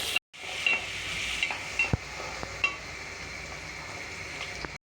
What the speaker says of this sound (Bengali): পেঁয়াজটাকে বাদামি করে ভেজে নেব।